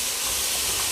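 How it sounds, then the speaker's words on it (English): Green onions, garlic, parsley, onion and a little sweet pepper sautéing in a pan, giving a dense, steady hiss of steam and sizzle, close and continuous. "I'm just going to let that saute for a little bit"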